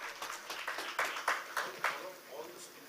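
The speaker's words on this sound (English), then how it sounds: "Let's have a huge round of applause, ladies and gentlemen." Scattered, fairly faint applause from a conference audience at a defence industry event, with separate claps landing in loose bursts for about three seconds.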